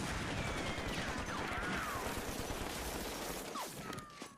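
Dense, continuous burst of rapid gunfire in the video game Half-Life 2, with crackling impacts, loud and sustained for several seconds before tapering slightly at the end.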